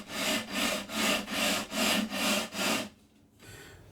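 Seven rhythmic back-and-forth rasping strokes of sanding the frets of a Yamaha F310 acoustic guitar, close and even, followed by a quiet pause.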